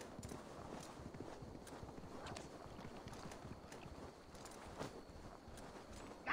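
A horse gallops in Assassin's Creed Valhalla, its hooves pounding in a steady, quick rhythm of close thuds over a windy outdoor bed that carries on throughout.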